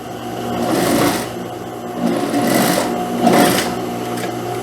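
A sewing machine stitches the folded hem finish on a dress sleeve in steady, close bursts of rapid needle chatter, with short pauses between runs.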